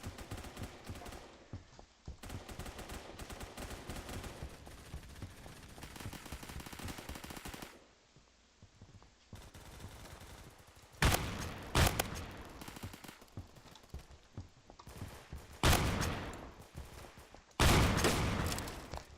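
Gunfire in the shooter game Phantom Forces, including a Remington shotgun loaded with bird shot: rattling volleys give way to several loud, booming blasts spaced a few seconds apart.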